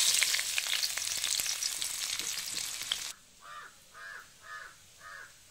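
Mango paste fries in hot oil in a pan, giving a loud, close, steady crackling sizzle for about three seconds before it cuts off. Several crow caws follow in an evenly spaced series.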